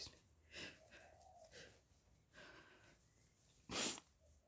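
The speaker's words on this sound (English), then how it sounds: "almost sneezed, but didn't quite" Quiet indoor breathy sounds: sniffs and catching inhales build toward a sneeze, then a short sharp burst near the end that never becomes a full sneeze.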